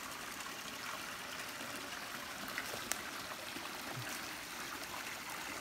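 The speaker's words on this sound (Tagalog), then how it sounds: "Sobrang lakas ng tubig." Spring water gushes hard out of a small hole and overflows near a hidden waterfall on Burias Island, Masbate, in the Philippines. It makes a steady, dense rushing that runs unbroken and close by, with no voices.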